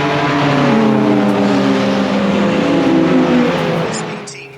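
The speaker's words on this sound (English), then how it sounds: "KAR Honda Civic that's there in second place, and that's John Lyne" Race cars, including a Honda Civic and a BMW, roar around the Brands Hatch Indy circuit at a season-ending race meeting, a loud sustained engine drone with rising and falling revs that fades at the end, over crowd or commentary noise.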